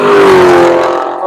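A race car roars past on the track at Nelson Ledges during a One Lap of America session, its loud engine note sliding slightly downward as it goes by, with no talk.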